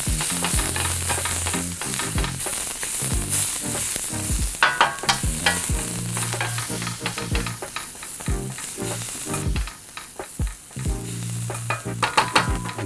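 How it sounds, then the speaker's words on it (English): Green onion whites stir-fried in a hot pan for Mongolian beef, a loud, close sizzle broken by a steady rhythm of spatula scrapes and knocks against the pan, with no voices. "Stir fry that for a few seconds."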